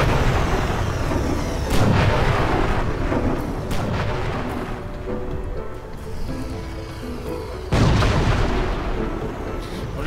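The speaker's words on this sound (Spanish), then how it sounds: "Es fácil evitar el bombardeo, son unos puntitos rosas en el suelo" Rumbling bombardment explosions in the video game Halo: Spartan Strike, with heavy booms around 2 and 8 seconds over a continuous loud roar of battle noise, without speech.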